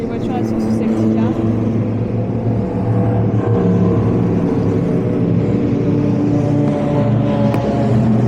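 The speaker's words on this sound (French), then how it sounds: "Les voitures, elles sont sous safety car." Race cars circulate at reduced pace under the safety car at the 24 Hours of Le Mans, a continuous loud rumble of engines with low droning tones, heard from the track's edge.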